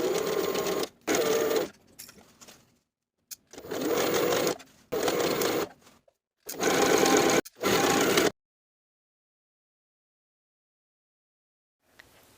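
A sewing machine stitches bias tape binding along the neckline of a tank top. It runs in several close, loud bursts of rapid stitching with short pauses between them, then goes silent.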